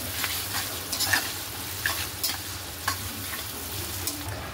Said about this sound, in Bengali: এখানে তো এগুলো ভাজাভুজি করছি, মানে পেঁয়াজটা ভাজছি